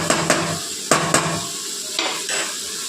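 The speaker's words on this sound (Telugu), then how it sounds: "ఇంకా పచ్చిమిర్చి బాగా వేగాలి" Green chillies frying in a pan for gongura pachadi, a continuous sizzle broken by several sharp scraping stirs of a utensil against the pan, close and loud.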